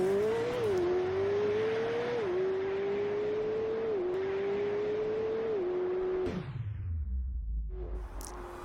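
Race cars in a racing video game roar off the start line, McLaren P1 among them, with a loud steady engine whine stepping up through gear shifts before cutting away to a low rumble.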